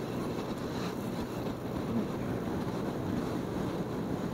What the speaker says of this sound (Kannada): ಗಾಳಿ ಅಡ್ಡ ಹೊಡಿತೈತೆ